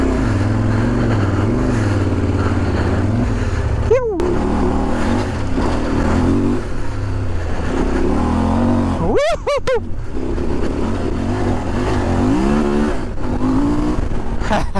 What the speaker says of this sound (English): Second gear, pulls well from down low. Then it winds out.